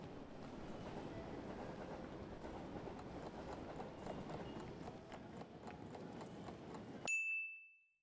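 Ambience at a train station with a passing train, a steady rattling, clattering rumble of wheels over rails that continues for several seconds before cutting off, followed by a bright electronic ding.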